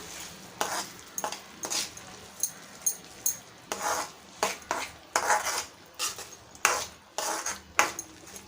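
A thick puran filling of cooked lentils with cardamom is stirred in a pot, giving a steady rhythm of scraping, scooping strokes of a spoon against metal, each with a soft sizzle, about fourteen in a row.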